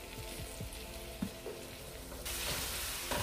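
Masala with tomato sauce frying in a pan for masala idli fry, a steady close sizzle that grows louder and brighter toward the end, with faint stirring clicks and no talk.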